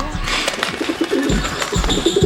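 A pigeon coos loudly and close by, with repeated throaty calls rolling over one another across the whole moment.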